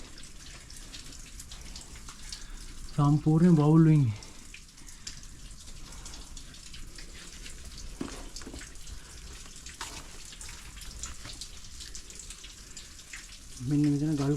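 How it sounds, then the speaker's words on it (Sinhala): Water drips and trickles steadily at the Kuragala rock cave on a rainy day, soft and constant in the background. Someone speaks briefly at the start and again at the end. "වතුර වැටෙනවා."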